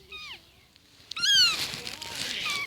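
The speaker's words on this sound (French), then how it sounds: "Et moi je vous laisse avec le chat. Tu vas faire peur au chat." A young kitten meows a few times, starting alone and then continuing under a voice talking close by indoors.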